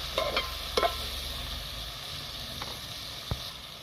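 Tomatoes dropped into hot oil for a Telugu broad bean curry set up a steady, faint sizzle, with a few clacks of stirring near the start and a sharp tap later.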